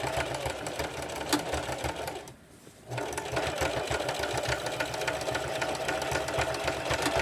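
A sewing machine stitching a zigzag satin stitch on purse straps, a loud steady close motor whir with rapid needle clatter that pauses briefly for about half a second and then resumes.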